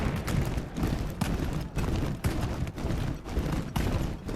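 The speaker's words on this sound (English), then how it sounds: "Union artillery opens up and shells Longstreet's troops," An artillery shelling sound effect for an Antietam board game plays as a string of heavy, rumbling booms, about eight or nine blasts spaced roughly half a second apart with short gaps between them, loud and alone.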